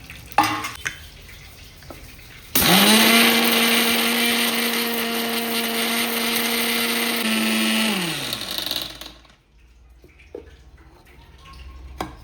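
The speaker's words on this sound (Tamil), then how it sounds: "வத்து வச்ச வெந்தயம் கடுகு பெருங்காயம் காஞ்சி மிளகா எல்லாத்தையும் அரைச்சிக்கிறோம்" An electric mixer grinder crushes dried fenugreek, mustard seeds, asafoetida and dried red chillies for a gooseberry pickle: a loud, steady motor whine runs for about six seconds, then winds down into near silence with a few small clicks.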